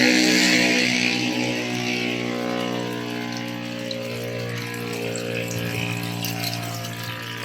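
An aquarium water pump and filter running in a DIY canvas fish pond, a steady humming drone with rushing water that stays constant and fairly loud throughout.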